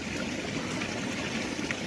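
A small forest stream trickles and babbles steadily at close range, a soft, even wash of water with no voices.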